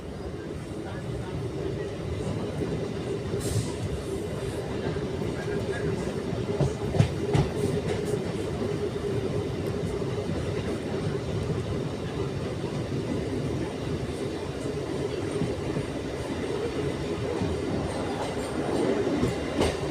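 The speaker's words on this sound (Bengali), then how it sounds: "একদম ভোরবেলা 7:10 ট্রেন, পুরো প্রায় খালি ট্রেন।" An early-morning 7:10 passenger train rumbles along continuously from inside a nearly empty carriage, with rhythmic wheel clatter and occasional squeaks and knocks.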